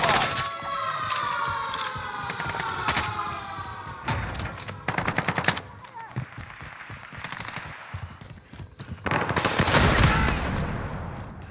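In a video game battle royale round, bursts of gunfire crackle in several separated volleys, loud and close at times and thinner in between, mixed with game effects and an occasional voice.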